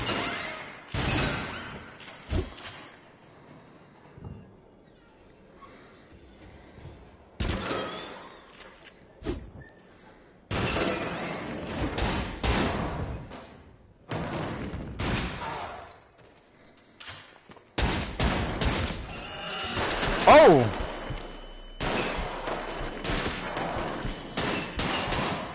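Bursts of gunfire in the VR shooter Until Dawn: Rush of Blood, coming in clustered volleys separated by short gaps, fairly loud and close with no talking over it.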